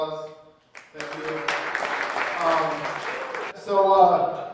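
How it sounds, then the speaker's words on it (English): Audience applause at a comedy club show, rising after a short pause and building to a dense, moderately loud patter, with a voice speaking over it at the start and end. "Give yourselves a round of applause."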